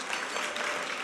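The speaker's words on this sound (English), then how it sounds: "I think that deserves a round of applause" Conference audience at a women's health award event breaking into applause, a brief dense burst of many hands clapping.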